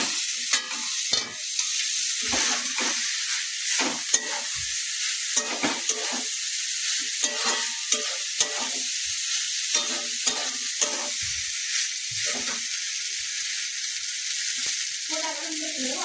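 Vegetables and boiled pasta frying in a pan, a steady bright sizzle running throughout under repeated scraping strokes of a stirring utensil.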